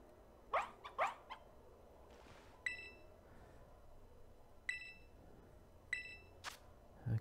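Puppies in the video game Pokemon Violet letting out short, sharp yaps and barks: a quick pair near the start, then single spaced chirpy barks, fairly faint and alone.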